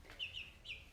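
Russian Orloff chickens indoors give a few soft, high chirping clucks in quick succession, faint and close, with no talking.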